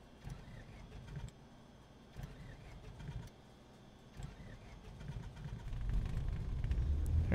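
A Cessna 152 engine starting in Microsoft Flight Simulator: a few quiet starter clicks and cranking pulses give way to a rising, steady engine rumble that grows louder toward the end, with no voices.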